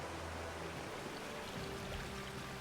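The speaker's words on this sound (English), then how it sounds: "The water's been drained completely." Water draining away in the video game Metaphor: ReFantazio, a steady, faint rushing and trickling wash that holds constant throughout with no talk over it.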